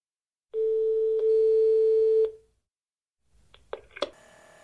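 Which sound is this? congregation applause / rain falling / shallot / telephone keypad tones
telephone keypad tones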